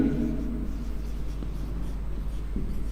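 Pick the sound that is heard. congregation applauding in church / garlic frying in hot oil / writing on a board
writing on a board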